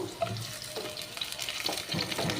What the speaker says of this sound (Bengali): এবার আমি বেগুনগুলোকে ছাড়বো।